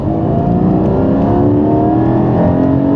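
A Porsche 718 Cayman GT4 pulls hard in second gear at full throttle, its engine note loud and steady with layered harmonics climbing as revs rise, sustained throughout without speech.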